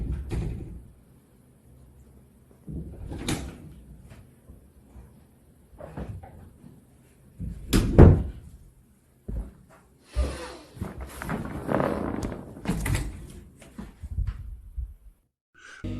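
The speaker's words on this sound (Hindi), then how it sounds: "एक आदमी के कमरे का दरवाज़ा खुद ब खुद बजना शुरू हो जाता है, जैसा कि कोई इसको नॉक कर रहा हो" Room door rattling and knocking on its own, with scattered wooden thumps and bangs followed by a burst of rapid rattling and shaking, loud against a quiet background with no speech.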